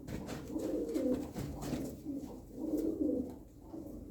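Tumbler pigeons, Turkish taklacı play birds, cooing in repeated low, rolling phrases about every second and a half, close and moderately quiet with a faint background hiss.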